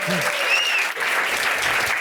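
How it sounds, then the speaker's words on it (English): A crowd at a SXSW branding session applauds a panelist; a short, steady wash of clapping with a voice briefly heard over it. "Give a round of applause to Terrence."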